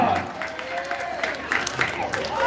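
Applause from the audience at a school quiz competition final, a steady wash of clapping over 2.5 seconds with a voice speaking over it.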